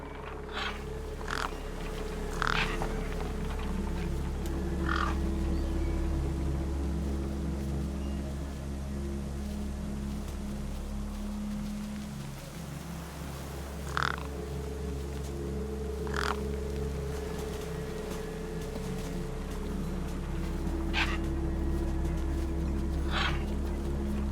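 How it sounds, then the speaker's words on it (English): Birds caw in the video game Beyond a Steel Sky. Several sharp crow-like calls come in scattered bursts over a droning, humming industrial background, and no one speaks. "Damn birds!"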